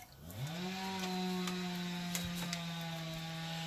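A steady motor drone holds a constant pitch after revving up at the start, with a few faint clicks over it, like a chainsaw running at a distance.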